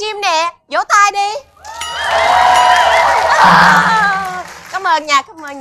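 Livestream audience clapping and cheering in a loud, sustained burst of about three seconds, with someone talking just before and after it.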